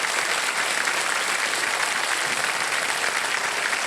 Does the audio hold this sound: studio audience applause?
yes